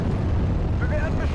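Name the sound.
rocket artillery explosion in video game Steel Division: Normandy 44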